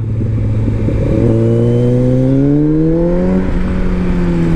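A 2021 Kawasaki Z900 motorcycle accelerating hard, its engine note rising steadily in pitch through the gears with a brief shift dip, loud and close over constant wind rush.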